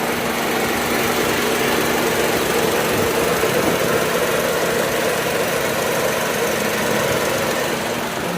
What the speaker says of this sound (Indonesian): Untuk suara di mesin Nissan March ini masih sangat halus